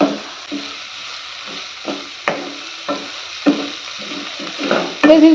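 Asafoetida fries in a pan for tomato dal sambar, with a fairly quiet sizzle under repeated rhythmic stirring scrapes and clinks of a utensil against the pan, ending in a louder clatter.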